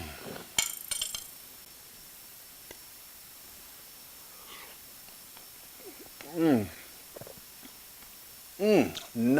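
A fork and knife clink against a plate of sautéed scallops with bacon, a few sharp metallic taps early on, followed later by brief voice-like sounds.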